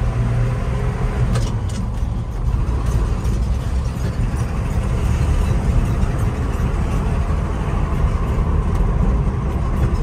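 Loud, continuous engine drone from a 1968 Ford F-250 Highboy 4x4 with a 300 inline six and four-speed, pulling in second gear, heard close from inside the cab with a steady rumbling roar throughout.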